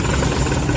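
Suzuki K6A engine idling roughly with the air conditioning switched on, a close, steady low rumble with shaking vibration through the whole short stretch.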